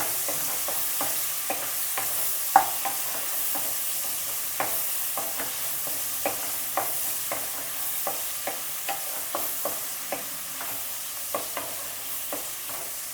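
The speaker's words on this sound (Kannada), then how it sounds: "ಒಂಚೂರು ಈರುಳ್ಳಿ ಕೆಂಪದ ತನಕ ಚೆನ್ನಾಗಿ ಎಣ್ಣೆಯಲ್ಲೇ ಇದನ್ನ ಮಾಗಿಸ್ರಿ ಈ ಥರ." Bitter gourd and onion frying in oil in a pan, a soft continuous sizzle broken by regular, close taps and scrapes of a spatula stirring.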